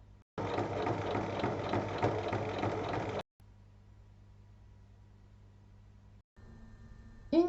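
A sewing machine stitches a bag base with a rapid, even mechanical whir lasting about three seconds, then stops. A low steady hum remains, and a brief clatter comes at the end.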